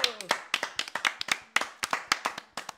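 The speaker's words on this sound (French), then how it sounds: "on applaudit quand même Logan" A small group claps for the winner during a live card-game stream, with sharp, uneven hand claps in quick bursts and a voice briefly audible at the start.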